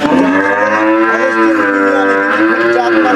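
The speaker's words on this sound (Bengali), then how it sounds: "হলস্টাইন ফ্রিজিয়ান জাত পার্সেন্টের গাভী" A black-and-white Holstein Friesian crossbred dairy cow moos in one long, loud, sustained low call close by, its voice droning steadily for several seconds with no talk over it.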